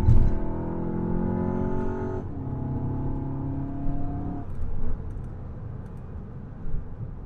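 VW MK7 GTI engine heard from inside the cabin while accelerating, a loud droning rise in revs that drops at a gear change and then settles into a steady hum.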